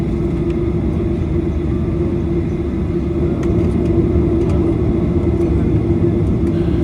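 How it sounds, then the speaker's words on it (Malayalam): A loud, steady low roar of jet engines during takeoff fills the clip, heard from inside the aircraft cabin, with occasional faint clicks. "അങ്ങനെ നമ്മുടെ ഫ്ലൈറ്റ് പൊങ്ങുവാണ്"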